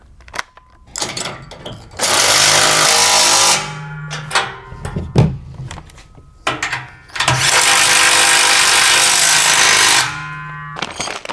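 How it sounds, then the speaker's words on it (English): A wrench with a 3/4 inch socket drives the carriage bolts on a MicroSport trailer. Two long, loud, close bursts of rattling mechanical noise are separated by brief clanks and handling knocks. "And we'll switch over to the 3/4 inch and tighten these."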